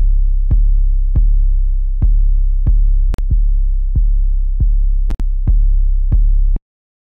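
A deep, distorted 808 kick drum shaped with a harmonic exciter, hitting about ten times in a steady pattern, each boomy sustained low note starting with a sharp click before a final abrupt stop.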